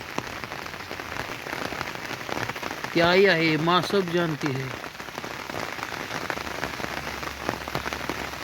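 Heavy rain falls steadily and densely on surfaces, a continuous close patter throughout, with a brief voice speaking over it near the middle.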